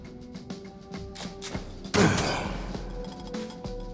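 Melee strike to an enemy's face in the video game Jupiter Hell: a loud crunching impact midway through, with scattered game thuds and clicks before and after.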